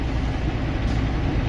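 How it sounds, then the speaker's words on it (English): A truck engine idles after a power steering pump replacement, giving a steady, loud, low rumble that holds constant for the whole moment with no voices. "I had the truck idling"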